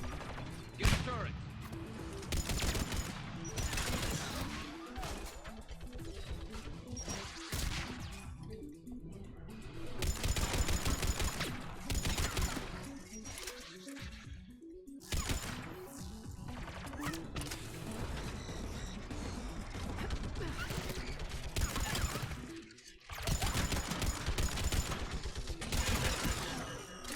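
Turret gunfire in the Mass Effect 3 video game rattles in dense mechanical bursts, broken by short pauses and continuing steadily at moderate volume throughout.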